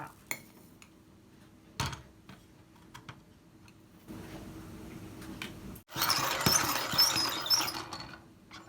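An electric grinder grinds roasted rice, a machine also used for coffee. A steady whirring hum runs throughout, with scattered clicks and clinks early on. It swells into a loud, dense grinding roar in the last few seconds.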